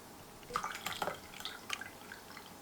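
Brewed Kashmiri chai splashes into a cup in a short burst of faint liquid drips and trickles, with a quiet room behind it.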